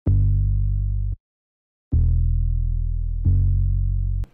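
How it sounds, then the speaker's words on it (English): Three sustained notes from an unprocessed bass one-shot sample in a producer's sound pack, played alone with a short gap after the first, each holding steady and strong in the low end before cutting off. "this is a bass one-shot. With no processing, it sounds like this."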